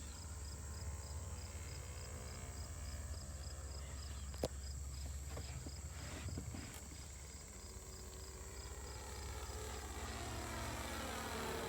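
A GF6 gas engine on an RC trainer plane idles slowly with a steady, even drone that holds at a constant low level throughout, with a faint high whine above it.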